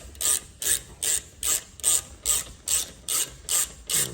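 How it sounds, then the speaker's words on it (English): A hand ratchet clicks in ten steady, evenly spaced bursts while loosening front brake caliper bolts on a 2011–2016 BMW 5 Series (528i, 535i, 550i xDrive), close up with no talking. "I'm gonna grab my ratchet for this"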